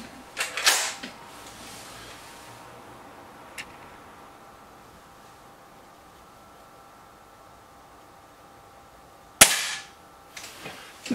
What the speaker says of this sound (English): That's a shot there by the SMK.